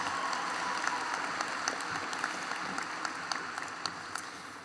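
A graduation ceremony audience claps in sustained applause, a dense even patter with scattered sharper claps, heard from within the crowd at moderate loudness.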